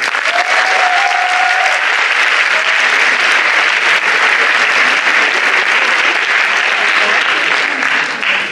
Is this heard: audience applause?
yes